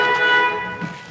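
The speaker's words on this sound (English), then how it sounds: "Horn works." The horn of a 1962 Chevrolet Impala restomod gives one short, loud, steady honk up close, cut off after about a second, with no voices.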